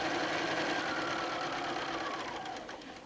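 A sewing machine stitching quilt squares of rainbow garden cotton fabric, a fast steady mechanical whir running continuously up close, then slowing and fading toward the end.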